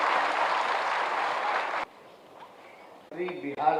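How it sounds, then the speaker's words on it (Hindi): An audience at a government appointment-letter distribution ceremony in Bihar applauds loudly to welcome a speaker, sustained clapping that cuts off abruptly after about two seconds, followed by quieter room sound and a voice speaking. "जोरदार तालियों से हम स्वागत करें।"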